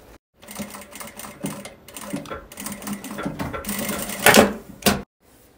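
A sewing machine stitches a seam with half-centimetre allowance on fabric for an insulated glamour bag, in short runs of rapid mechanical chatter broken by pauses, with a louder final burst before it stops.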